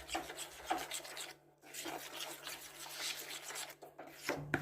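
Eggless marble cupcake batter being mixed in a bowl, soft irregular scraping and rubbing strokes at low volume with brief pauses, no voices.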